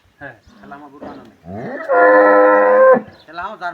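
A dairy cow lets out one loud, drawn-out moo close by in a village, with people's voices briefly before and after.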